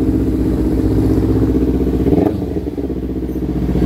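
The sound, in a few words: Ninja big bike motorcycle engine running after push start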